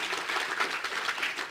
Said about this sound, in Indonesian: Kembali tepuk tangan untuk beliau-beliau